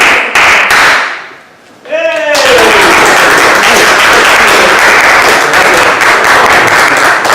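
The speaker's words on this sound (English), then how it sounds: "One more round of applause, would you?" Dense audience applause at an open mic night, loud and sustained clapping from a crowd after a brief lull, with a short sung or whooping voice rising just before the clapping swells.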